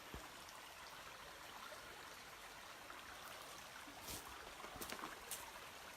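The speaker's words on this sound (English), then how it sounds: "Only a stream." Small stream of the Tresillian River near Truro in Cornwall flowing at night, a steady broadband wash of water with faint trickles and splashes, continuous and close.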